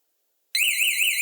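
A motorcycle alarm bursts on after silence with a loud, close warning pattern of rapid electronic chirps and warbling beeps triggered by tilting the bike, repeating in pulses with no talk.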